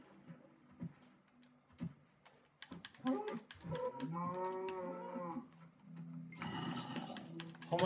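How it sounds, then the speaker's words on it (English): Cow mooing in the Minecraft video game, a drawn-out low call with a second moo following, amid sparse clicks and game noises, loud and near. "Yeah, it is a cow."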